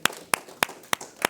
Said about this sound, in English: Give Levi a round of applause.